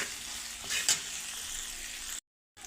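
Coriander powder, garam masala and cumin powder are stirred in a hot pan for mutton pulao, making a continuous close sizzle with a couple of brief scraping strokes. The sound cuts out near the end, and no voice is heard.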